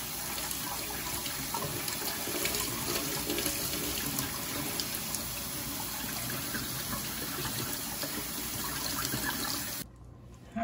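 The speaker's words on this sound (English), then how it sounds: "Just like rice, rinse your lentils." Lentils being rinsed under a running kitchen tap, a steady, close rush of flowing water that continues for about ten seconds before cutting off abruptly.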